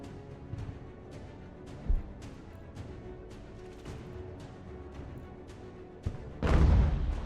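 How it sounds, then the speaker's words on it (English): Cannon fire in the video game Ultimate General: American Revolution, distant booms rolling over a low battlefield rumble, with a couple of sharper thumps and a louder blast near the end. "I hear the roar of cannons."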